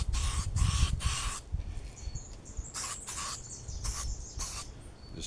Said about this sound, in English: this spray putty is also a primer, so you can actually paint straight over it